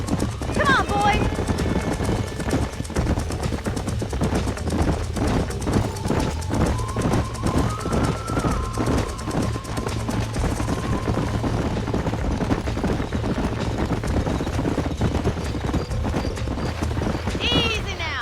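Horses in Red Dead Redemption clip-clop steadily at a walk, hooves knocking in a regular rhythm under a constant game music bed, with occasional whinnies and voices talking over it.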